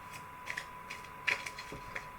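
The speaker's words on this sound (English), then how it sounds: "when I shuffle my cards, I'm shuffling this way. So you can see, I shuffle lengthwise." Tarot cards shuffled lengthwise by hand give soft papery riffles and light flicks, faint and close, over a steady low hum with no talk.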